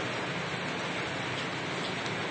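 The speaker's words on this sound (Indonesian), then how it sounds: "Meski dalam keadaan curah hujan yang tinggi" Heavy rain pours steadily on a flooded bridge area in Indramayu, a dense, constant hiss of falling water filling the scene with no breaks and no voices.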